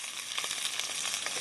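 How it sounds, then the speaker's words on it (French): Food sizzles steadily in a pan over an EcoZoom Versa camping stove, a continuous bright crackling hiss heard close up and alone, with no talk. "ça grésille là-dedans."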